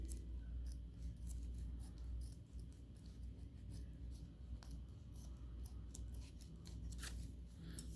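Scissors snip through card pack packaging on a 1960 Christmas rack pack, a quiet string of close, crisp clicks and slicing crunches repeating irregularly over a soft background hum.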